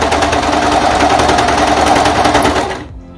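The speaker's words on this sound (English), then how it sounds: "And then I keep sewing." Sewing machine stitching fabric close by, a loud steady rapid mechanical chatter running continuously for nearly three seconds before stopping abruptly into silence.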